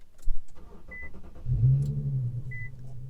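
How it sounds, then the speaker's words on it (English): Infiniti Q50 with the 3.7 engine and a muffler delete, heard from the cabin: a couple of short beeps and light clicks, then a deep, rumbling engine swell that rises into a loud, steady drone. "here's how my Infiniti Q50 sounds with a muffler delete"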